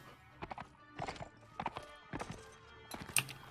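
Horse hooves in the video game Mount & Blade Warband clip-clop in short, uneven clusters. The strikes are moderately loud and close, with gaps between the runs of hoofbeats.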